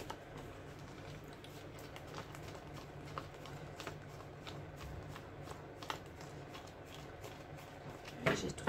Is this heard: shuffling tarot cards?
yes